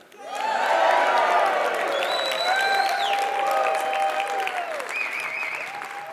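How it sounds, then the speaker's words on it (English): A live event audience bursts into loud, sustained applause with cheering and whoops, a dense crowd roar that holds steady for several seconds, with scattered voices calling out. "cheer when we have the opportunity to cheer"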